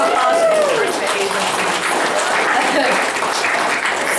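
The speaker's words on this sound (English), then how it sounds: "Can we get a round of applause for enforcement" A crowd at an SPCA ceremony in Chester County applauds for enforcement agencies, steady dense clapping filling the room for several seconds while voices carry over it, including a rising whoop early on.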